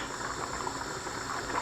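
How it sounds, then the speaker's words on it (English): Water drains off par-cooked basmati rice in a steady close hiss and gush, a constant pouring rush with no voices. "yeah, just drain the water."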